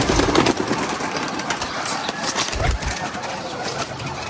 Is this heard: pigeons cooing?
yes